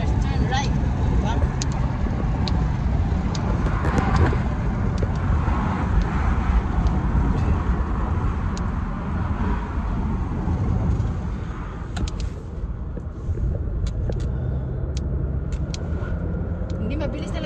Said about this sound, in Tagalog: Hindi mabilis talaga to sa sasakyan na to.